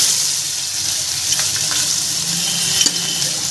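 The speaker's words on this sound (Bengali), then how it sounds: "গরম হয়ে গেছে, তেলের মধ্যে আমি এই সবজিগুলোকে দিয়ে দিচ্ছি" Vegetables, including carrots, crackle and sizzle steadily in hot white oil, with a few faint clinks, heard close up and without speech.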